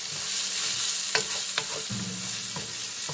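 Curry chicken sizzles steadily in a pan over medium heat, with a few sharp scrapes and stirs of a utensil spreading the pieces around.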